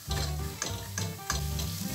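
Beef and pepper cooking in a pan for picante de carne: a loud, close sizzle runs throughout, broken by four regular scraping strokes of a spoon stirring.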